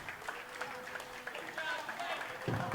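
Crowd in an Athletic Center gym applauding at a college men's basketball game, a steady wash of clapping and cheering that swells toward the end, with a few faint voices mixed in.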